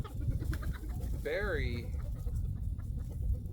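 Roosters in a backyard chicken run, one brief rising-and-falling call under ongoing close-up conversation.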